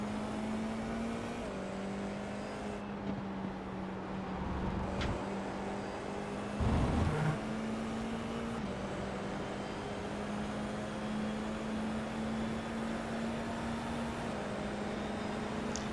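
Formula race cars racing at Snetterton, a steady distant engine drone holding a sustained tone, shifting pitch a few times, with a short louder burst partway through.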